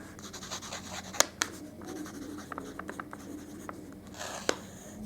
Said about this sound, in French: Le petit truc que j'aime faire, évidemment, c'est d'écrire le livre sur ma liste de lecture 2026.